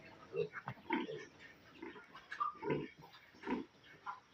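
A sow and her week-old piglets grunt softly in short, irregular bursts, a mix of deeper grunts and higher squeaky ones, fairly quiet and close.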